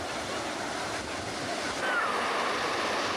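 Ocean surf on Kovalam beach in Kerala, India, roars in a dense, continuous wash of breaking waves, loud and close, with wind buffeting the microphone.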